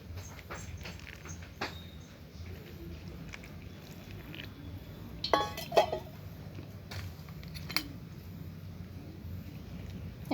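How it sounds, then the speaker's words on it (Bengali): A spoon stirs batter in a bowl as water is added bit by bit, giving soft scraping and clinking against the dish over a low steady background, with a busier burst of clatter midway. "একটা চামচের সাহায্যে আমি ব্যাটারটাকে গুলে নিচ্ছি।"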